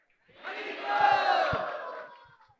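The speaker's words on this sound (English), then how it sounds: "give a big round of applause for yourself and say a big loud Hari Bol" A crowd at a devotional lecture shouts Hari Bol together in one loud, swelling roar that lasts about two seconds and then fades, with no talk over it.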